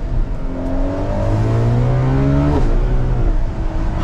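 A Ferrari 12Cilindri V12 revs while driving, its smooth multi-cylinder tone sweeping steadily upward through the gear, loud and close from inside the cabin, with a brief dip at a shift before climbing again.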